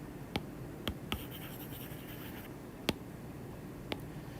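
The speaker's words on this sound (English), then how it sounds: "We are going to write" Pen or marker strokes scratch across a board as an equation is written by hand, a few sharp ticks and short scraping strokes spaced irregularly over a quiet room tone.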